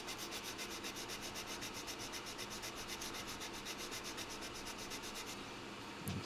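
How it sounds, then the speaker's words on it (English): A 400 grit sanding stick is rubbed over the cockpit of a P-40F Warhawk scale model, giving quick, even back-and-forth scratching strokes close to the microphone that stop near the end. "Then we've got a length of Infini 400 grit sanding stick."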